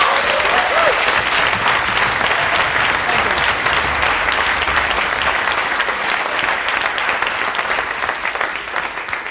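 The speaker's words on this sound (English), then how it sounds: "let's give him a round of applause for that." A room full of people at a Nordic Barista Cup 2011 talk applauds, loud and sustained, the clapping tapering slightly toward the end.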